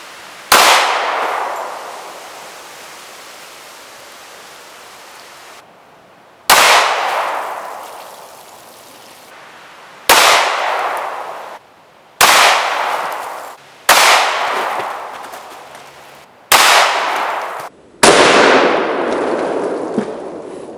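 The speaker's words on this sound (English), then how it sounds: "we'll be firing the H&K USP 45" Hornady Critical Duty .45 rounds fired from an H&K USP 45 pistol at a range: seven sharp, loud shots with pauses between them, each followed by a long ringing decay, the last few coming in quicker succession.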